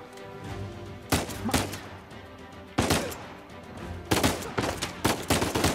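Shots ring out in an Uncharted 4: A Thief's End firefight, sharp bursts arriving in separated clusters over a low ambient rumble, loud and fairly close.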